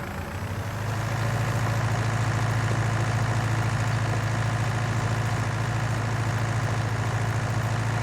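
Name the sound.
Fiat tractor engine idling, from video game Farming Simulator 19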